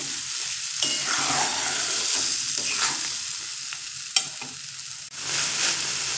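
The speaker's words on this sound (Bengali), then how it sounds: "এবার ধৈর্য ধরে খুব সুন্দর করে কষিয়ে নেব।" Banana stem and shrimp sauté in mustard oil, a constant crackling sizzle broken by repeated scraping stirs of a spatula against the pan, close and fairly loud with one sharp clack midway.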